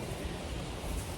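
Strong wind roars steadily across a woodland clearing, a loud, broad buffeting rush with no pauses and no voices.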